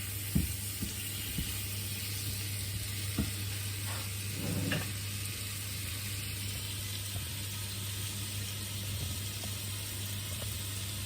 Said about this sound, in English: Okay, so all of these are added in. Let's mix it up. Okay, just give it a stir.